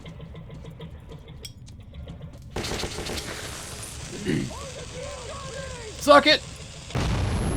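Grenade blast in the Metro 2033 video game, a sharp burst of explosive noise near the end amid other gunfire-like bursts, with someone talking excitedly over the action.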